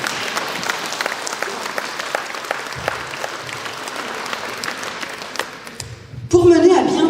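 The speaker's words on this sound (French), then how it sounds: "Là, vous pouvez applaudir, ça fait bien." Scattered clapping from guests seated at a festive community dinner, with individual sharp claps standing out and background chatter beneath, before a louder burst of voices and noise near the end.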